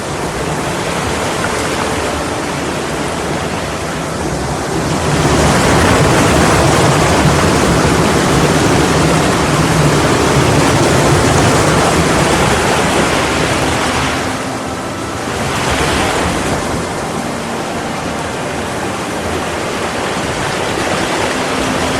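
A hidden stream in Kenya's Taita Taveta runs down over rocks, a steady rushing wash of water that swells louder for a stretch in the middle and eases again, with no voices.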